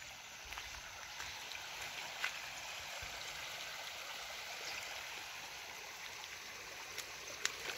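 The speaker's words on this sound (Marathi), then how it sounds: "किती पाणी वाहत आहे." Rain-swollen stream water rushing steadily after a heavy night of downpour, a constant, fairly faint broadband wash with small splashy flickers and no voices.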